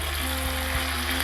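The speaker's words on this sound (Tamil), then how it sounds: "நல்லா இது தளதளன்னு அந்த நெய்யிலையும் எண்ணெயிலையும் வதங்கி வரணும்" Chicken fries with turmeric in ghee and oil, making a dense, continuous close sizzle with a faint low hum beneath and a couple of soft stirring bumps.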